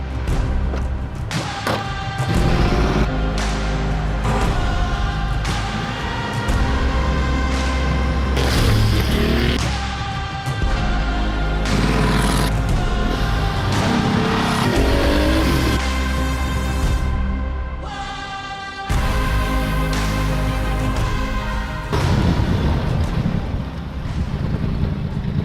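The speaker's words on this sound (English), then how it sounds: "Unser 959 Paris Dakar wird heute den ersten Kilometer absolvieren." A restored Porsche 959 Paris Dakar rally car driving: a loud, continuous engine drone with shifting pitch and heavy wind buffeting, broken by a few brief drops in sound.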